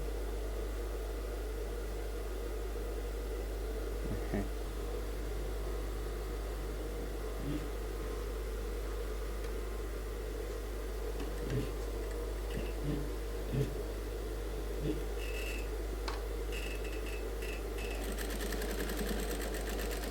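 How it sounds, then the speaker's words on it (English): A sewing machine restitches a suit seam to make the stitches firm, a steady mechanical hum running throughout with a few brief louder clicks and bumps scattered along it, no voices present. "I'm going to restitch it again so the stitches can be firm"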